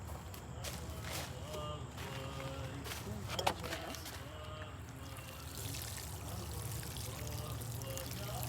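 Water pours steadily into a potted tomato plant and marigold, a continuous close splashing trickle running throughout, with talking over part of it.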